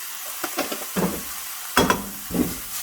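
Vegetables sautéing gently without browning in a pan with salt and pepper, a soft sizzle broken by a few stirring scrapes and clacks, close and brief, no voices.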